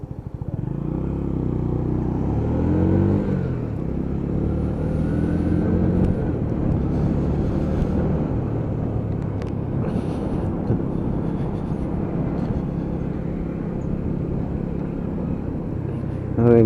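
Lexmoto ZSB motorcycle ridden on a dual carriageway, its engine droning steadily close up with wind rush, a rising gear-change sweep early on, and a rider's voice talking over it.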